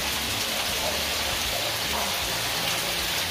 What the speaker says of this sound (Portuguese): Vocês veem lá a chuva.